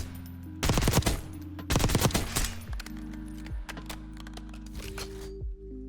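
Gunfire at the firing range in Black Ops 6, two loud automatic bursts followed by sparser single shots over a steady low game hum.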